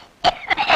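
A person coughs in a Tamil wedding comedy skit, giving two or three short, harsh, throaty bursts close to the microphone, heard alone without speech.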